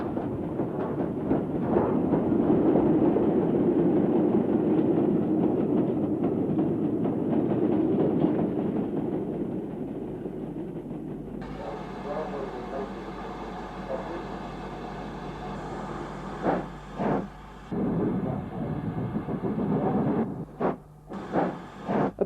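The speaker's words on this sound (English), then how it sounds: "BR Standard Class 2, number 78018, on this Esso train" BR Standard Class 2 steam locomotive No. 78018 hauls an Esso train, a loud steady rumble of rolling stock and engine that later thins to a lighter, even running sound broken by a few brief dips.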